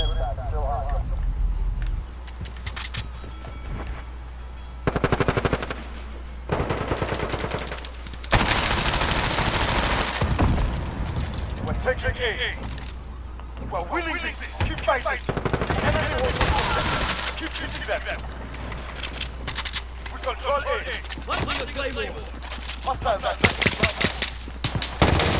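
A player's gun firing in a video game: repeated bursts of automatic gunfire, loud and close, broken by short gaps, with a voice talking excitedly throughout the shooting.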